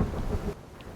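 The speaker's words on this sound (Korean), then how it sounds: "천둥까지 치는 밤" Thunder rumbles low and heavy on a stormy night on a deserted island, a dense roll that cuts off abruptly halfway through, leaving a faint wash of rain and wind.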